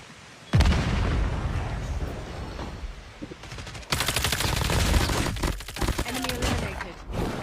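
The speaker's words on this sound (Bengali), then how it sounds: "ও ভাই আমি একলা ফায়ার করছিলাম" Heavy gunfire in Call of Duty: loud, dense bursts of automatic shots and blasts that cut in sharply, ease briefly, then return even louder in rapid volleys, with no voices over them.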